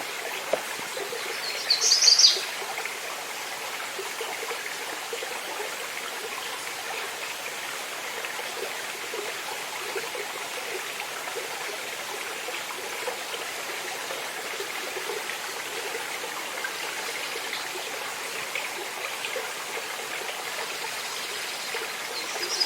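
A creek runs steadily in a continuous soft wash of flowing water, fairly distant and even, with a brief bird chirp near the start and no voices.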